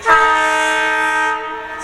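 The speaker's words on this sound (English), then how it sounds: "he's blowing the whistle like he's supposed to for the grade crossing" A loud, sustained train horn blast sounds close by at a grade crossing, holding one chord-like tone for over a second before cutting off.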